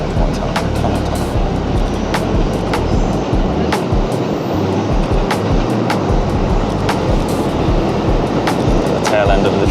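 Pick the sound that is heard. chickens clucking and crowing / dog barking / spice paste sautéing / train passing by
train passing by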